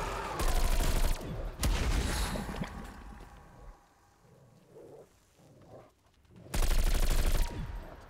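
Loud, dense automatic gunfire in a zombies shooter comes in three heavy bursts of about a second each, with a quieter stretch of scattered noises between the second and third bursts.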